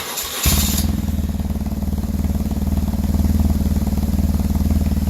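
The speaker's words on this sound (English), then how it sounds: "So I'm going to start the bike up." BMW R 1150 GS motorcycle with a Dobeck electronic jet kit fitted, its engine cranking briefly then catching and settling into a steady, loud, even idle close by, with no talk over it.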